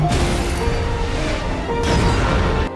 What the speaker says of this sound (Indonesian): Ia hampir mati karena ledakan itu.